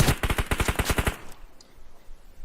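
Rapid automatic gunfire in PUBG Mobile, a burst of about a dozen loud evenly spaced shots lasting just over a second, then a quieter tail with faint distant noise.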